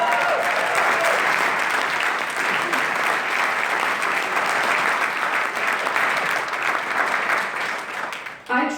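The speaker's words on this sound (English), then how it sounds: "I want to applaud our NYSAR staff" Sustained applause from the audience at a New York State Association of Realtors installation ceremony, broad and even clapping from a large crowd that holds steady for several seconds before dropping away at the end.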